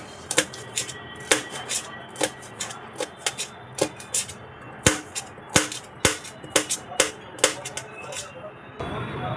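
A knife chopping green chilli on a board, a string of sharp, close, evenly spaced cuts that speed up toward the end, no talk over them.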